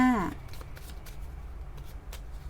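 Tarot cards are shuffled close by in a brief riffle, followed by soft, scattered card rustles and taps under a faint room background.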